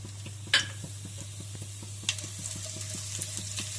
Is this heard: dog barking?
no